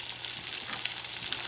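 Scallops frying in a hot pan make a bright, steady sizzle, close and moderately loud. Faint crackles and light stirring ticks sit over a low, even hiss for a brief moment.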